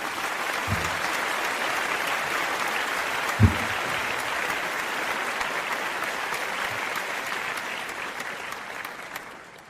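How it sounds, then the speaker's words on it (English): Sustained applause from a crowd for the Sussexes at an award event, dense even clapping holding steady for nearly ten seconds before tapering off at the end. "let's do one more applause for the Sussexes."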